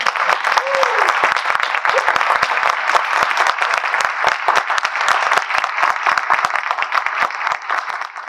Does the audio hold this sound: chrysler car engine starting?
no